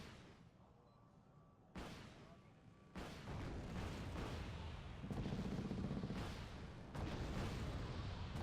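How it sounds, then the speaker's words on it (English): Anti-air missiles fire in Wargame: Red Dragon, a series of loud whooshing launches and booming bursts stacking over a rumbling battlefield, each blast raising the din, with a voice talking underneath. "we got some anti-air missiles firing away here"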